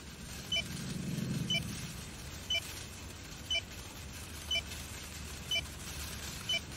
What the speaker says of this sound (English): That awful beeping.